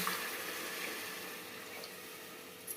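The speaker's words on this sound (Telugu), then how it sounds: "కొద్దిగా నీళ్ళు పోసుకొని" Water being poured from a small vessel into a pan of tomatoes for methi dal, a soft continuous trickle and hiss sustained over a few seconds, fairly faint and heard alone.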